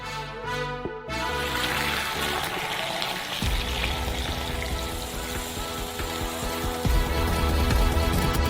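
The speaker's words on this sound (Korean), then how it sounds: "커피는 이미 끓었으므로 스토브에서 꺼내 큰 컵에 부어주세요." Hot, freshly boiled coffee poured from a stovetop pot into a large cup, a continuous liquid splash and gurgle with a brief clink at the start and a louder stretch near the end.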